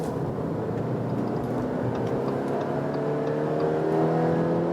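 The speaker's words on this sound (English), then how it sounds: "Now 50 to 80 kilometers an hour acceleration." A 2020 Subaru Forester eBoxer 2.0ie accelerates from 50 to 80 km/h in SI drive mode, its engine drone steady and continuous with rising tonal harmonics, heard from inside the cabin without talk.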